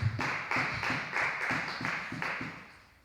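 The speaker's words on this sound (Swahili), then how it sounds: "Pigia Yesu makofi basi." A congregation at a prayer service claps hands for Jesus in a steady, quick rhythm, about three claps per second, loud and fairly close, fading slightly at the end.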